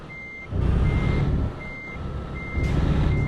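A heavy truck in Euro Truck Simulator 2 reverses with loud, evenly spaced electronic beeps over a steady engine rumble, near and clear with no talking.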